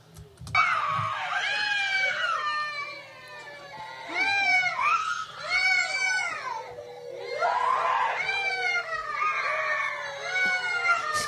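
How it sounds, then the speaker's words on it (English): High, wavering screams and wails rise and fall in several overlapping bursts, loud and shrill, with faint background hum and no clear speech. "They're all screaming."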